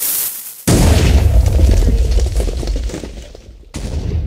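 Two heavy, booming TNT cannon blasts in Minecraft go off a few seconds apart, each followed by rumbling debris noise, close and loud.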